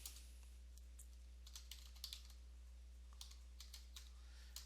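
Someone types on a computer keyboard in light, irregular clusters of clicks, heard fairly close and quiet over a steady low electrical hum.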